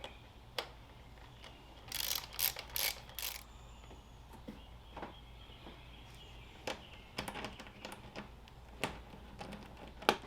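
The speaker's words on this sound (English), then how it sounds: "you want to make sure that these screws are going to be facing up, because that's going to make it easier for you to tighten them down" Ratchet clicks in short bursts as screws are tightened on a JLT cold air intake on a Jeep, close and fairly quiet, with scattered single clicks and taps between the runs.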